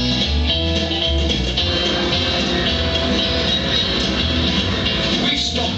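A passenger train rolls along the tracks with a steady rumbling roar and faint rhythmic clatter, heard from on board, no voices.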